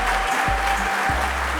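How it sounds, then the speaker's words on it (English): A studio audience at an intimacy show breaks into sustained applause, dense and loud throughout, with a low musical drone underneath. "A round of applause, please."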